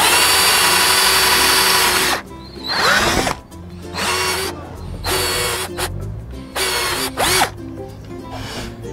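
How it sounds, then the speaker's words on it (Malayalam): Power drill boring screw holes in an electric skateboard deck: a loud continuous whir at first, then four or five separate bursts of drilling with whining spin-ups and spin-downs between brief pauses, close and alone. "ഇനി നമ്മളത് ഡ്രില്ല് ചെയ്ത് ഹോളാക്കാൻ പോവാണ്."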